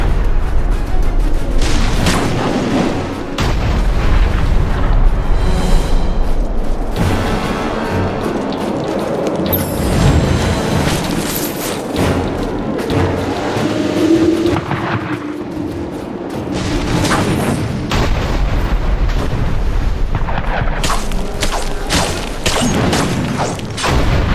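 Azunai gunners firing in the Dungeon Siege III video game: loud, repeated booming gunshots and crashing impacts in dense bursts, with mechanical clatter throughout and brief quieter gaps between volleys.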